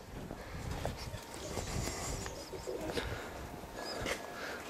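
Roller pigeons at feeding time, with soft intermittent coos and rustling over a busy, noisy loft background, faint and somewhat distant, with no talk.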